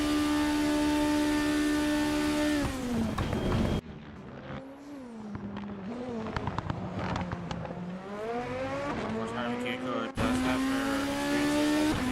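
Race cars in a Formula Hololive racing video game, engines droning loud and steady with a high whine that shifts pitch as the cars accelerate and slow, almost continuous over the full stretch.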